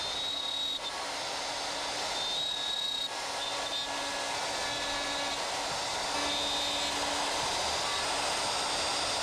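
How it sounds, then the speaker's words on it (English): A plunge router cuts down into the corners of a wood workpiece on a router sled, giving a steady, loud, unbroken motor whine with dense hiss that lasts the whole stretch. "Get my router, and we're going to plunge down into the corners."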